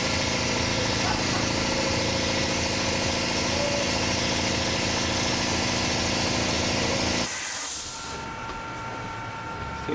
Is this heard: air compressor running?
yes